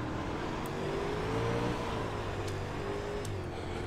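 Super Late Model race car engine in iRacing on the Fairbury Speedway dirt oval, a steady loud droning growl with slight throttle swells, heard alone without talk.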